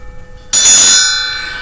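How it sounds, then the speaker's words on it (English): A small hand bell is struck once after a quiet moment, giving a bright, loud ring that holds and slowly fades, heard close and alone. "I've got a new little bell, and I'm going to use it to symbolize Pluto."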